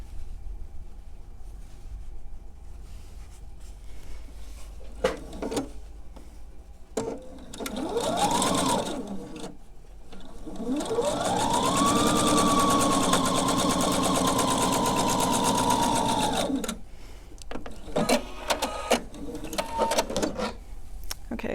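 A sewing machine stitches fabric in short bursts, then runs in one long, steady whirring stretch before stopping, with small clicks and handling noises between runs.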